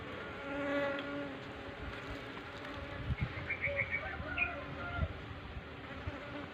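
Honey bees buzz steadily around a hive while feeding on dripping honey, a close, continuous drone with a few sharper passes, and faint background noise throughout.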